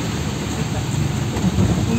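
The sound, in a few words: rain falling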